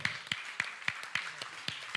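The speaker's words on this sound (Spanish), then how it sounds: "Dale ese fuerte aplauso al Señor" Church congregation applauding, heard as a steady run of sharp claps about every quarter second, fairly faint and sparse, like a few hands beating in rhythm.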